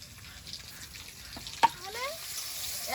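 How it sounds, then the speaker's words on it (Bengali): White cumin and garlic fry in hot oil in a wok. A soft, steady sizzle runs throughout, broken by one sharp clink midway and a few faint squeaks. "কড়াইতে তেল দিয়ে দেবো তেলের মধ্যে দিয়ে দেবো একটু সাদা জিরে এ তো করা রসুন"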